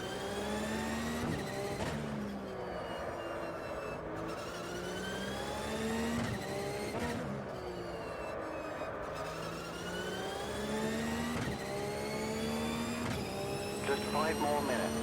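In a racing video game, a race car engine climbs steadily through the gears in repeated rising whines with sharp drops at each shift, loud and continuous throughout.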